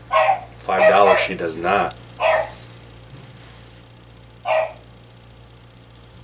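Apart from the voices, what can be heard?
dog barking in the background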